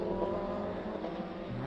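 Classic race cars at the Jarama circuit in Spain, a sustained blended engine roar with a rising pitch near the end, heard at a steady distance with no voices.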